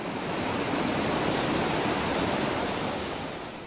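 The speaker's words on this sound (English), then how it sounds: "The river is roaring now." Turbulent river water roars through the breach of the Marmot Dam, cutting a new channel in churning hydraulic jumps; a steady, loud, close broadband rush with no voices, easing slightly at the end.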